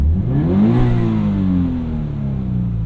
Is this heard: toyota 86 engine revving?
yes